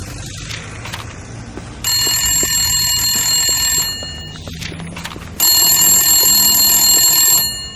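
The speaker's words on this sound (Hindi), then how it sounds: "टेलीफोन की घंटी बजी।" An old-style telephone bell rings in two long electric bursts of about two seconds each, loud and close, separated by a short pause, with a faint hum underneath and no talk.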